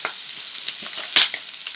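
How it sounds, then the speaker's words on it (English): Four slit green chilies fry in about two tablespoons of oil in a non-stick pan, giving a close, steady sizzle with crackling pops and one louder hiss burst partway through. "I have a nice non-stick pan with about 2 tablespoons of oil. I'm adding 4 green chilies slit at the center"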